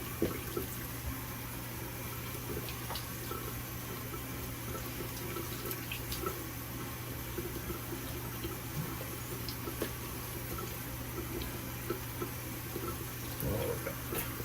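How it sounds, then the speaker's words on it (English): A tap runs steadily into a sink for a cold rinse after a shave, a faint continuous hiss of flowing water with an underlying hum and no talk. "Time for a cold water rinse."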